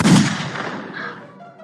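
A gunshot fires in the Roblox game Piggy as a single sharp, loud blast at the start that then trails off and fades over about a second and a half.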